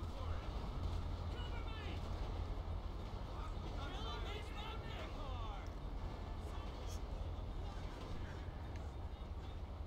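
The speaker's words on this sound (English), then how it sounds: "I almost lost my life to a train." A train rumbling past in GTA V with the LSPDFR police mod, heard as a loud, steady, continuous roar lasting throughout, with a person talking over it.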